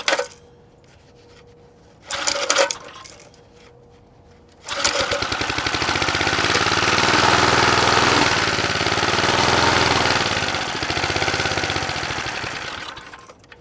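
A vintage McLane reel mower edger engine being started on old gas, with brief pull-start bursts followed by a loud, steady sputtering run that chugs for several seconds, then fades as it dies out.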